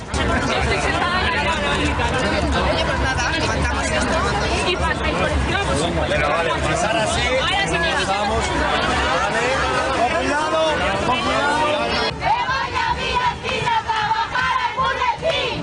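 A rally crowd boos and shouts insults at Madrid's deputy mayor Begoña Villacís, a dense, loud and continuous wall of jeering voices and chanting that holds for the whole stretch.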